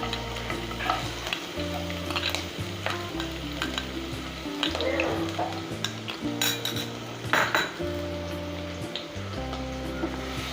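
Garlic frying in hot oil in a pan, a steady sizzle with a spatula stirring and scraping against the pan in repeated bursts, close and alone with no talk.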